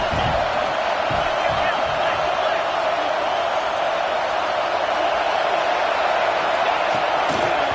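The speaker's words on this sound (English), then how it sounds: "This crowd bringing the energy and noise early." A dense, steady roar of a large college football stadium crowd at Nebraska versus Clemson, continuous and loud throughout, with scattered shouts and cheers blending into the wash.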